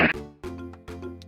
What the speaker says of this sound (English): So I've got my Go-Goat sound effect right here